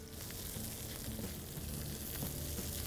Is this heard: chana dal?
yes